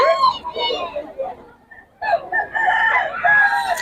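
A rooster crows loudly nearby at a chicken sale in Bocaue, with a second crow following after a short pause, amid people talking in the background.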